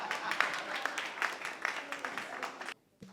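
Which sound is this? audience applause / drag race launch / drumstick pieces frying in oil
audience applause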